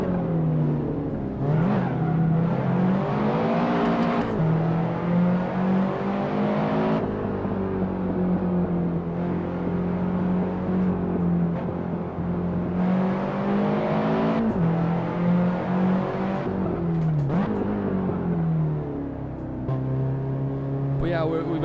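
A car engine in the Assetto Corsa racing game revs hard through a drift, its loud tone climbing and dropping in repeated waves with brief shifts, while a voice talks over it.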